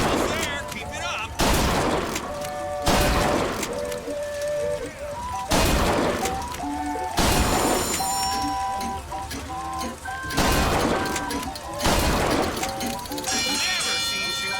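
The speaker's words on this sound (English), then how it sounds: "Never seen shooting like that." Gunfire at a shooting gallery in BioShock Infinite: loud, sharp shots arrive in a series of separate bursts every second or two, layered over steady music and ambience.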